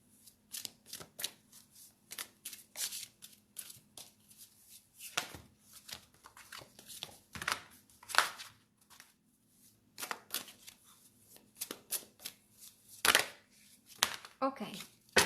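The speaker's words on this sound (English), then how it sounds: "So I'm going to place here 3 cards." Tarot cards being shuffled and dealt out for a reading, a long run of crisp riffling flutters and soft slaps as cards land one by one on a surface, close and fairly quiet, with brief pauses between bursts.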